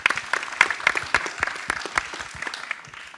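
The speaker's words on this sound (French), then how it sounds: "oui on peut l'applaudir." An audience at a food-waste meeting claps for a speaker, a dense patter of hand claps with a few louder nearby claps, gradually thinning out.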